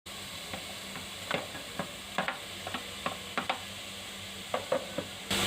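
Tomatoes soft-sizzling in a hot dry pan with no oil, with scattered clicks and scrapes of stirring, fairly quiet and steady.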